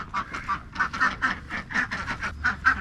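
A flock of farm ducks quacks in rapid overlapping bursts close by, a busy, rhythmic chorus of nasal calls with no talking over it.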